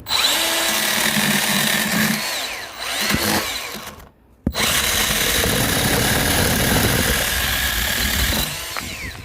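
A Milwaukee M12 FHS cordless mini chainsaw cuts through wood, a loud, close buzzing whine that strains under load, drops out briefly when the motor stops, then restarts and keeps cutting steadily.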